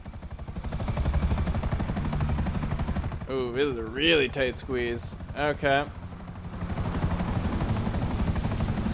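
In Grand Theft Auto V, a helicopter flies under a bridge with steady rotor chop throughout, while someone talks briefly over it in the middle.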